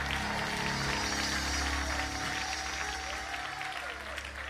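A church congregation claps together at a worship service, a steady wash of applause that holds at full level throughout with no break or voice rising above it.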